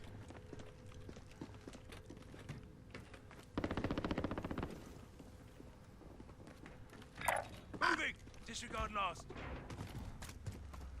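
A short burst of rapid automatic light machine gun fire rattles in Call of Duty, followed by scattered bursts and impacts, with low voices and game noise in the background.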